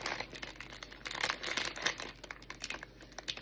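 Plastic bag crinkling close up from a home decor haul, quiet irregular crackles and rustles in quick bursts, with no speech over them.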